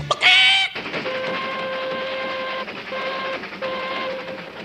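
A short high whistle blast is followed by steady tonal hooting and rumbling like a moving train in a cartoon, at moderate volume, with a couple of brief breaks.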